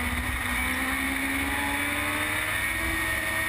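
Formula Gulf 1000 race car with its rear tyres spinning up on a circuit, heard as a steady, dense engine roar with a faint rising whine, loud and continuous throughout with no talking.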